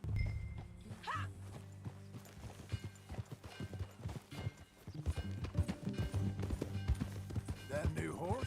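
Horse hooves clip-clop at a ride's pace in Red Dead Redemption 2, steady rhythmic thuds close by with a brief whinny, under game music and character voices talking.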